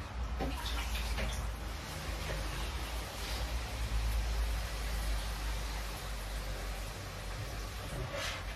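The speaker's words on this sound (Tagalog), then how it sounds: "Lagyan natin ang tubig." A steady, rushing pour of water into a cooking pot of chicken tinola with kohlrabi, continuous and fairly close, with a low rumbling undertone and no talking.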